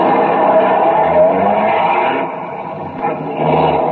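Several police cars from a radio crime drama pull out of a garage and drive off, engines running loud and steady with a dip midway before rising again, a sound effect with no voices.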